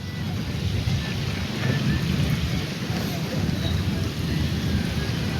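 Heavy rain pours steadily with a deep rumble of thunder rolling underneath, loud and continuous throughout with no pauses.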